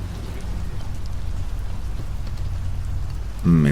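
Steady storm rain pours down in an audio drama scene, a dense even hiss of drops that continues unbroken before a brief louder low sound at the very end.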